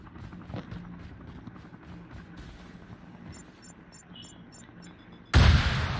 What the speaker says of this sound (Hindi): फायरिंग